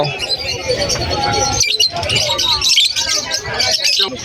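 Pet birds chirping, among them yellow face opaline split ino hens offered for sale, with busy overlapping tweets and calls throughout, heard under steady talk from several people nearby.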